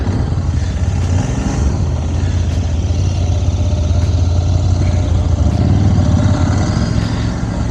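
A Royal Enfield 650 twin motorcycle, an Interceptor 650 or Continental GT 650, being ridden: a steady low engine drone with rushing road and wind noise, with faint periodic ticks above it and no talking.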